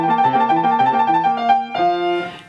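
Piano trill passage with the left hand holding the pulse, the rapid alternating notes gradually slowing and sagging in pitch, played clearly and close with no voice over it.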